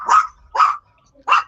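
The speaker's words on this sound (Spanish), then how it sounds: "Don Manuel, apague el micrófono, que le escucha el perro." A dog barks three times in separate bursts, moderately loud and close, with pauses between, no talk over it; heard during a basic electricity class held online.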